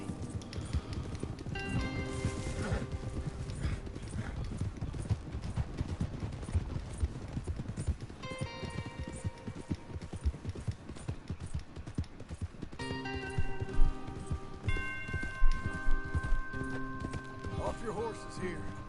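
Rhythmic hoof clip-clops of horses moving at pace in Red Dead Redemption 2, with occasional whinnies, game music and people talking over the top.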